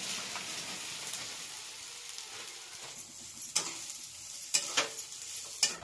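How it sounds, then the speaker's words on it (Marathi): Peanuts roast in leftover cooking oil with a soft, steady sizzle, then a run of sharper stirring taps and scrapes in the last few seconds. "ह्यात हे राहिलेल्या तेलामध्ये शेंगू भाजू"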